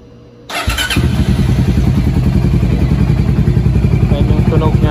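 A Voge 300R motorcycle engine starts up after a fresh battery and settles into a steady, loud, close idle with a rapid even pulse.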